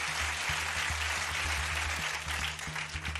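Studio audience applauding a team of contestants at a show, dense steady clapping throughout, with a low rhythmic music beat underneath.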